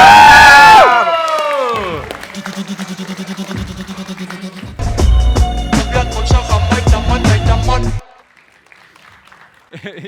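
A live stage show where a rapper is welcomed, with a crowd cheering and whooping loudly at first, then music and applause swelling in bursts before dropping to near quiet at the end.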